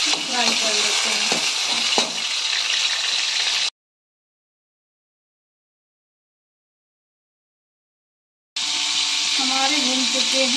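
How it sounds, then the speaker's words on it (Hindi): Peas frying in hot mustard oil for a chickpea curry give a loud, steady sizzle in two stretches split by a few seconds of dead silence, with faint clinks of stirring and some talk over the first part. "मटर डाल फ्राई कर लेते हैं।"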